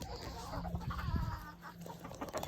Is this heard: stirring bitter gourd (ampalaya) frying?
no